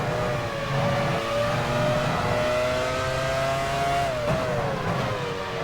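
A Formula One car in the racing game F1 Challenge 99-02 screams at high revs in a sustained, steady engine whine. The pitch holds high and dips briefly with a gear change near the end.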